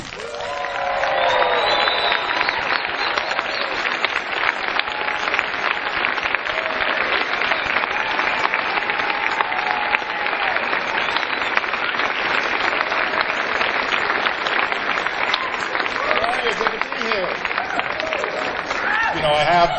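An audience at a Liberty PAC event applauds steadily as Vince Vaughn is welcomed on stage, a dense, loud wash of clapping with some cheers that lasts about twenty seconds.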